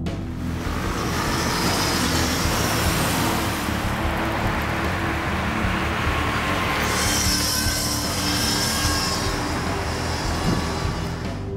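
A Zero S electric supermoto motorcycle riding on the road at speed: a continuous motor roar with a high whine rising and falling over rushing wind, steady and loud throughout.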